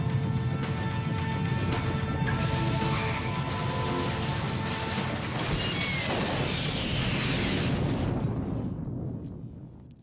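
A spaceship crashes and breaks apart in a long, roaring explosion with shattering debris and crackling bursts, loud and continuous before fading at the end.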